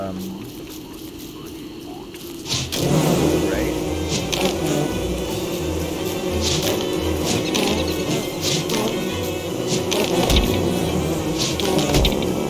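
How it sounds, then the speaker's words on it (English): Buzzing of bees in the survival game Don't Starve, a steady droning hum that runs close and loud, with a voice talking over it. "Lots of bees."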